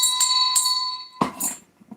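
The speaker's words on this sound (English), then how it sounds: "hit that bell notification" A short notification bell chime rings out clearly, its bright tone sustaining before fading, then a second softer, duller hit follows with brief trailing clatter near the end.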